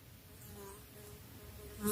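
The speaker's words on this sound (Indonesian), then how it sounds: "Berseliweran lebah menghampiri kepala saya." Bees buzz close around a hiker's head on a quiet forested mountain slope, a steady near hum with no talk, swelling louder right at the end as one passes very close.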